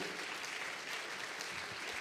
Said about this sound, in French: je voudrais vraiment applaudir nos